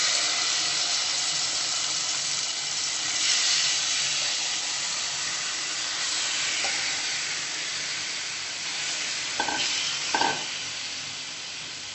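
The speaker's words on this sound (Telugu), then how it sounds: "మీడియం ఫ్లేమ్లో కంప్లీట్గా డ్రై అయ్యే వరకు ఫ్రై చేసుకోవాలి" Chicken pieces fry in two spoons of hot oil in a pan over a medium flame for butter chicken, producing a loud, even, continuous sizzle up close, broken only by a pair of quick utensil taps near the end.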